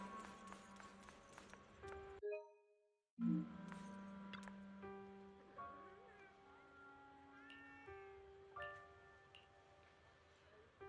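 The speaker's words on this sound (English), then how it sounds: "there's a cat over there." A cat meows in the Zenless Zone Zero video game, several short tonal mews breaking through soft background music and game sounds.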